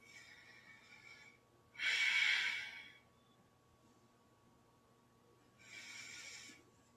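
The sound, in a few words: yoga breathing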